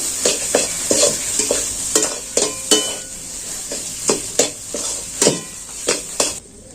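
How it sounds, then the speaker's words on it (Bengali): Peanuts already fried are stir-fried with the filling for bottle gourd leaf rolls, a spatula scraping the pan in sharp, regular strokes over a steady close sizzle. "এটাকে আমি নাড়াচাড়া করে ভেজে নেব"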